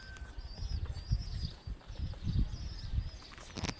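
Pet pigeons cooing close by: a run of soft, low, throaty coos repeating in uneven pulses, with faint high background tones above.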